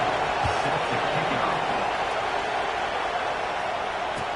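A stadium crowd in the College Football 25 video game gives off a steady, dense roar with no clear peaks, and voices sit faintly within it.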